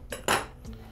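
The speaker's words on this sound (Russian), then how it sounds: "берем картофелечистку и начинаем срезать широкие полоски" A few quick scraping strokes of a metal peeler cutting wide strips from a vegetable, close and moderately loud, with a short pause between them.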